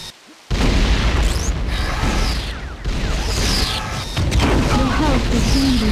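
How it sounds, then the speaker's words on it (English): A grenade launcher explosion in a retro-styled T2 video game, a sudden loud boom after a brief quiet, followed by rumbling blasts and mechanical clatter, with a voice talking over it. "Boom! Grenade launcher."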